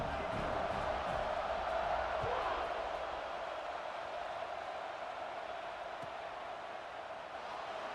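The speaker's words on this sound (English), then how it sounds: "this crowd is buzzing after that last score" Stadium crowd in EA College Football 26, Alabama at UCLA, cheering and buzzing after a score, a dense continuous roar that slowly eases over eight seconds, with no clear voice over it.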